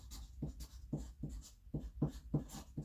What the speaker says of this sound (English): I'll X them out and write thank you